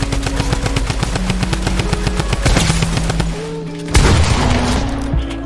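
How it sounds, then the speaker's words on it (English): Rapid shotgun and automatic gunfire crack from a video game in a dense, loud volley, with sharp repeated bursts and a heavier boom near the end. "I hit you 40 with a shotgun."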